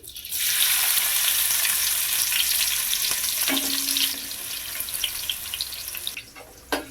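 Onions and cumin seeds frying in hot oil make a loud, sustained sizzle that starts abruptly, briefly settles with a faint tonal whine midway, then tapers off near the end.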